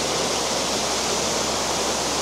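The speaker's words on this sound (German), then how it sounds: "Hier oben kommt der Wasserfall hier so runter." Trusetal waterfall in Germany pours down in a constant, broadband roar of rushing water, steady and enveloping with no voices or breaks.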